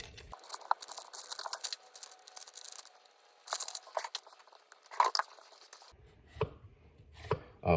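A sharp knife cuts through an onion on a board in a run of crisp, close chopping strokes. The strokes are irregular, with short pauses and a few louder thuds toward the end.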